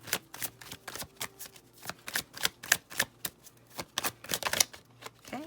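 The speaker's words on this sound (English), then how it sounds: "If you don't like the shuffling, feel free to fast forward." Tarot cards shuffled by hand at a pick-a-card love reading, a rapid run of crisp riffling slaps and flutters, close and fairly loud, with no voices.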